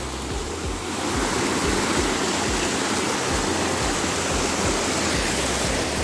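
A mountain stream rushes over rocks, a steady broad roar of flowing water, loud and close, with no voices.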